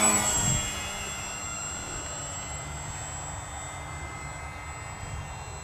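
An E-flite M7 Maule model airplane makes a slow fly-by, its electric motor a steady high-pitched whine with a faint hum beneath, holding at moderate distance for several seconds after a louder opening moment.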